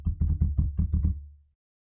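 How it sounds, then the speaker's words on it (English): Someone bumps into a table, making a quick run of about seven low, hollow thuds that are loud and close, then fading to silence with no talking. "or bumping into the table."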